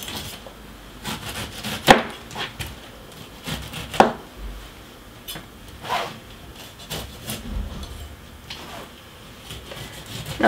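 A knife slices a pineapple into thick rounds on a cutting board, giving irregular, fairly quiet thuds and scrapes spaced a second or two apart.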